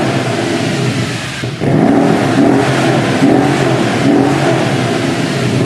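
A Mercedes-AMG M157 twin-turbo V8 revs loudly and close, holding a steady roar that climbs after a brief dip, with several rising engine swells and no talking.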